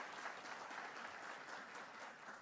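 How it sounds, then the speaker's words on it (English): A conference audience at the University of Maryland, gathered for a crime victims' rights event, claps in a steady, dense burst that sounds fairly distant and quiet, with no talking over it. "Let's give them a round of applause."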